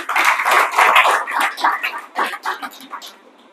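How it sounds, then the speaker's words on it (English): An audience at a graduate employability skills opening ceremony claps for the program manager, a dense, close round of applause that thins into scattered claps and fades out. "Please, another round of applause for him."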